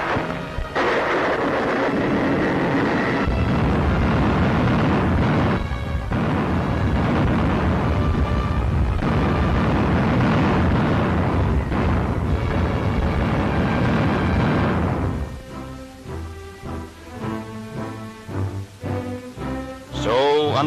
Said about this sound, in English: No submarine can live within 20 feet of an exploding depth charge.